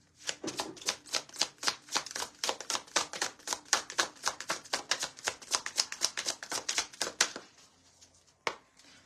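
Tarot cards are shuffled in a quick run of sharp, riffling clicks for about seven seconds, close and fairly faint, ending with a single tap.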